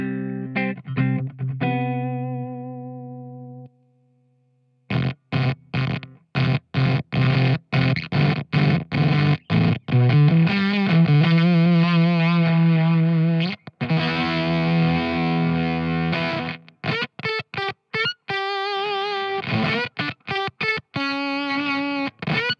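Guitar played through a Valco KGB fuzz pedal on a distorted channel: loud, buzzy, heavily gated fuzz chords and choppy bursts with abrupt cutoffs, a short pause, then dense stuttering riffs, with no talking.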